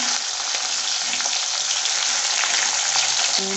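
Green chillies and onion frying in hot oil in a pan, giving a steady, loud, close sizzle that holds evenly throughout with faint stirring underneath and no voices.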